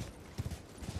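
Quick clip-clop of horse hooves from the video game Elden Ring, a light galloping rhythm of several soft thuds, fairly quiet and close.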